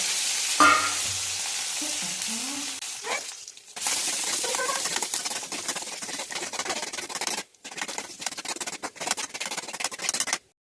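Shallots and two or three dried red chillies frying in hot oil, a steady close sizzle with stirring scrapes and clinks, a brief pause midway before the frying resumes.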